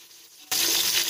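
Green chillies drop into hot oil and ghee with onions, setting off a sudden loud, bright sizzle that stays steady after a brief quiet moment.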